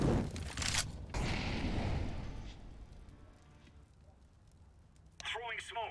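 Gunfire and explosive bursts from a competitive tactical shooter match with a grenade thrown, loud and dense at first, then fading to quieter ambience before a sharp burst of sound near the end; a voice talks over it.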